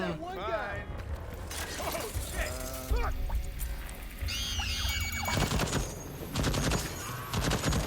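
Rapid turret gunfire in the video game Deathloop rattles in bursts alongside other game effects and sweeping tones, with speech over the top.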